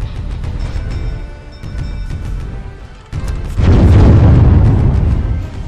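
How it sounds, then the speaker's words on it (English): Ship cannons fire in the naval strategy game Windward, a deep booming burst swelling midway and rolling over a continuous low rumble of game sound. "it's on the side where cannons can actually reach it"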